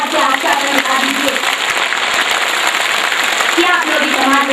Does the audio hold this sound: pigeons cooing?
no